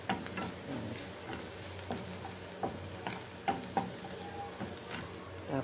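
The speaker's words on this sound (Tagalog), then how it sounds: "kailangan isangkutsa maigi yung bawang kasi yan ang pampalasa. Dapat maging mag-brown-brown na siya" Garlic sautéing in a pan for a tuna omelette, browning in a steady close sizzle with repeated light taps and scrapes of stirring.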